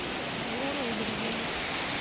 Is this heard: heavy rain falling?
yes